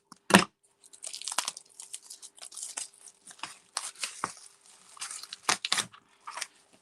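Scissors slide in and cut open a new pack of craft paper, giving intermittent crinkly tearing and crunching with one sharp snip at the start, close and moderately quiet with no talking.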